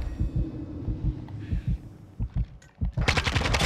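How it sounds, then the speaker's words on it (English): Gunfire from a sniper rifle in Call of Duty: Modern Warfare 2 during an online bomb-plant match, with sharp loud shots and game effects. "I got another guy with my sniper rifle."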